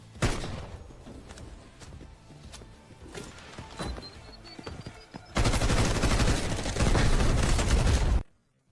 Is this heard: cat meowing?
no